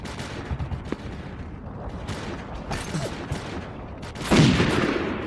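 Gunfire cracks and zips past in the video game M.I.A. Mission In Asia, with scattered shots through the first seconds, then a louder burst near the end.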